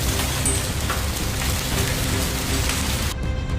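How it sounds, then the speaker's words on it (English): Torrential rain pouring during a violent storm with fierce winds battering a city, a dense, steady hiss of heavy rainfall that stays loud and even until it cuts off abruptly near the end. "The fierce winds and torrential rains that battered the city"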